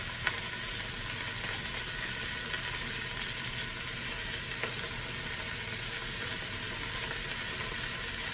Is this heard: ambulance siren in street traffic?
no